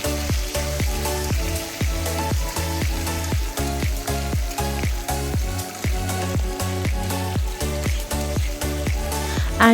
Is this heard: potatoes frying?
yes